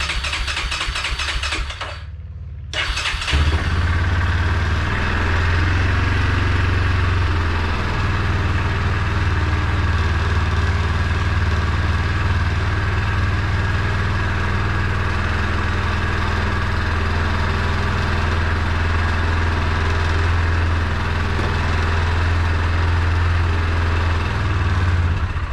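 Yamaha Kodiak 400 ATV engine cranking briefly, cutting out, then catching and settling into a steady, loud, even idle after an oil change, running alone without talk.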